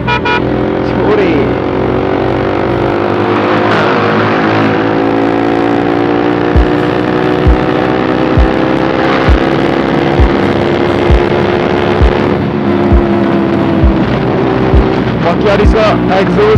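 Motorcycle ridden without an exhaust on a long road ride, a steady loud engine drone with wind rush throughout, the rough note holding constant with slight swells as it cruises.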